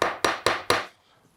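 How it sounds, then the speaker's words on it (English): A hammer taps a wooden furniture piece flush during assembly, giving four sharp, evenly spaced knocks in quick succession, close and clear, then silence. "I'm going to just use a hammer here and I'm going to tap that flush"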